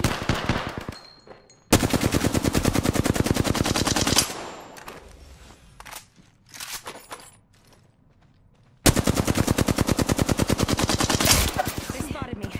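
Rapid automatic weapon bursts blaze in Apex Legends on PlayStation 4, two long loud sustained volleys bracketing a stretch of scattered shots, impacts and game effects in between.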